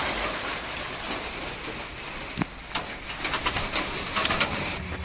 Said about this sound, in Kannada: ಸ್ಟಾರ್ಟ್ ಆಯ್ತು ಮಳೆ